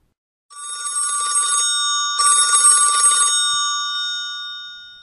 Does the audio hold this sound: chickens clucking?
no